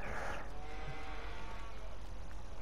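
Cattle in the Farming Simulator 19 game, on a Somerset farm map near a built-in cow shed, giving steady overlapping lowing and bleat-like calls over a continuous loud ambient farm bed, with no talk.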